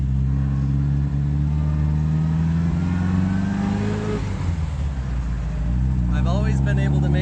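A 1951 MG TD drives along with a steady, close engine drone, the pitch rising as it accelerates, then dropping briefly and climbing again as gears change, with faint higher whine near the end.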